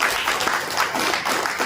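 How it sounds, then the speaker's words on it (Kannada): An audience at a diamond and jewelry plan class bursts into applause, a dense continuous patter of many hands clapping at steady loudness throughout. "ಸ್ನೇಹಿತರೆ, ಒಂದು ಚಪ್ಪಾಳೆ ಬರಲಿ"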